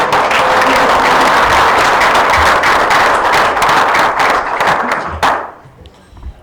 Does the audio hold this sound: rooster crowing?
no